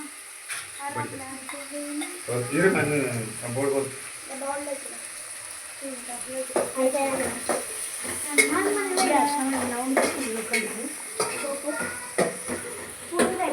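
Green tomatoes are stirred into a pan of hot oil while preparing fish curry, a moderate sizzle with spoon scrapes running under near, frequent talking.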